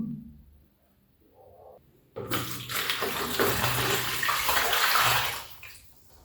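Water poured carefully back into a small pot while making a plaster (gesso) 3D wall panel on a countertop: after a quiet start, a steady close splashing pour of about four seconds that fades out, with no talking.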